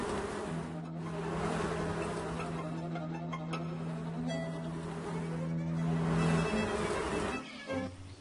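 A swarm of bees buzzing in a Jungle Book children's game app, a continuous droning hum with a wash of background noise and a tone that drops out near the end.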